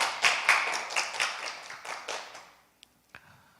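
A church congregation gives a round of scattered clapping, moderately loud and fairly close, thinning out and dying away after about two and a half seconds, with a couple of stray claps at the end.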